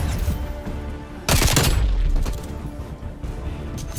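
A stun grenade goes off in Call of Duty Black Ops Cold War, a single sharp, loud bang partway through over a busy backdrop of gunfire and rumbling game noise, with no talk.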